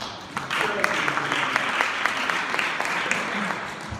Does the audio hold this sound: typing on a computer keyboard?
no